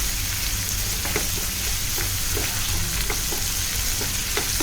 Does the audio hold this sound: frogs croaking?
no